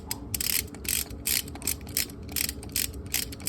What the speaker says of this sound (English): and then torque wrench. I just like to torque down the